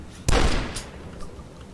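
Gunfire in the video game Dusk: a single sharp, loud shot with a brief booming tail, followed by a fainter second report and a soft distant pop.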